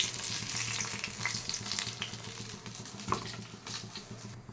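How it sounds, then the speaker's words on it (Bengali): Eggplant fries in hot oil in a pan, giving a steady, faint sizzle and crackle with small stirring scrapes and pops throughout. "ওই বেগুনগুলোকে আগে একটু ভেজে তুলে নিচ্ছি।"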